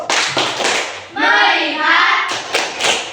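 A class of children performs a rhythmic clapping chant, bursts of hand claps and thuds alternating with a sustained chanted passage in the middle, close and loud in a classroom.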